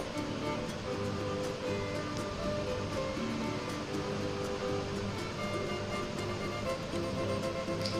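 Pointed gourd and potato pieces fry in a spice paste for an aloo potol katla curry, giving a steady, dense sizzling hiss that holds evenly throughout with no talking.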